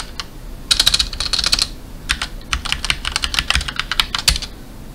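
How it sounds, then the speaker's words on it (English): A computer keyboard clatters as a password is typed, with loud close bursts of rapid key clicks, a short pause, then another longer run of keystrokes and no talking. "You can only log in if I type my password"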